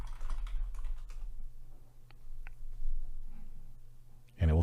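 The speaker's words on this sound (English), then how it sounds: "I can type in any prompt, just like I would with ChatGPT." Keystrokes on a computer keyboard as a prompt is typed into a chat program, light clicks scattered across a steady low hum, ending in a louder knock.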